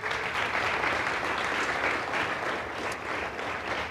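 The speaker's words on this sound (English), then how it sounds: "please give them a big round of applause" An audience at a City of Boston scholarship ceremony gives steady, dense applause, a full roomful of clapping that holds without letup for a few seconds.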